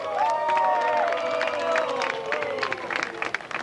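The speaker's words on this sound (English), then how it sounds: "Give him a hand, please" An audience at a basketball event claps and cheers as players are introduced. The applause is loud and sustained, mixed with whoops and shouting voices that swell early and then thin out toward the end.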